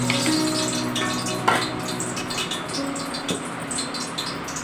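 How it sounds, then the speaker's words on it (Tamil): Dissolved tamarind water poured into vegetables cooking in a pan, a steady close sizzle and splash with faint stirring clinks running throughout. "நம்ம கொஞ்சோண்டு புளி கரைச்சி ஊற்ற போகிறோங்க"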